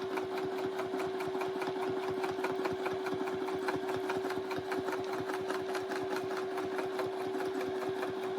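Sewing machine stitches rapidly and steadily during free-motion quilting along a heart border template, a dense continuous needle rattle with a faint constant hum, close and alone.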